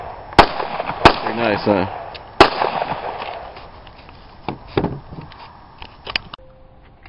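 Beretta M9 pistol fired outdoors at about a hundred yards near Lexington, Oklahoma: three loud, sharp shots spaced about a second apart, then several fainter pops, with a brief spoken remark.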